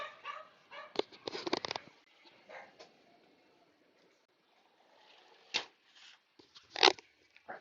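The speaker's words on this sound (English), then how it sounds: "my little dog Bella wants to share." Bella, a small dog, gives a few sharp yaps and snorts close by, scattered in bursts across a quiet indoor room.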